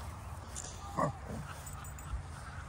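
A puppy whimpers and lets out a short yip at close range, a brief thin cry over steady outdoor background noise.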